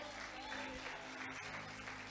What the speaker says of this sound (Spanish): ¿Alguien puede aplaudir al Señor?